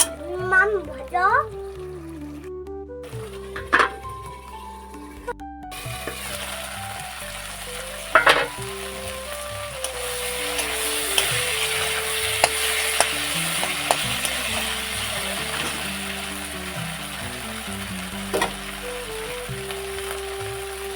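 Spice paste with mustard sizzles and crackles steadily in a pan as a Bengali pabda fish curry is cooked, with scattered stirring clicks and a voice talking briefly near the start.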